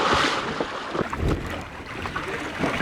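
A boat's engine runs at sea off a shark-filming boat, a steady rumbling wash mixed with wind buffeting the microphone and splashing water, continuous and fairly close with no voices.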